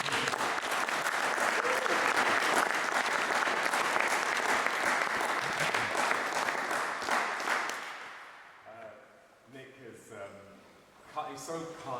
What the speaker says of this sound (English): can I give a round of applause to Nick,